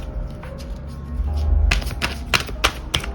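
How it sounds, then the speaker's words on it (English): Tarot cards being shuffled close by, a rustling riffle followed by several sharp snapping flicks in an uneven rhythm. "So I'm just going to shuffle a few cards here."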